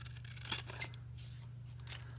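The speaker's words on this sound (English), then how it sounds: "you couldn't ask for a nicer pair of scissors as far as the cut quality." Milwaukee chrome-plated scissors make a couple of quick, crisp snips, close and fairly quiet over a low steady hum.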